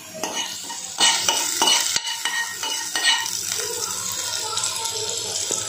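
Bay leaf, cardamom and cinnamon sizzle and crackle in hot homemade butter while a spoon stirs and scrapes the pan, loud and close, with a sharp clink near the middle.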